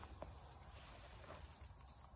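Crickets chirp at a zoo in a continuous, faint, high-pitched trill that holds steady throughout, with no talking.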